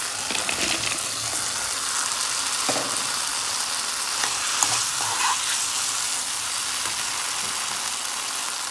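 Fried paneer being stirred into sizzling masala cooked in ghee in a pan, producing a loud, continuous hiss and crackle with occasional spoon scrapes, close up.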